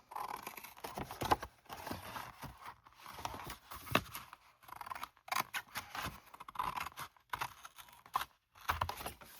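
Scissors snip through homemade steampunk fabric in quiet, irregular bursts of close crisp cuts separated by short pauses, with no talking.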